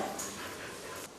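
A stray dog at an animal shelter whimpers faintly, giving a few brief high whines against a hissy room background, with no talking.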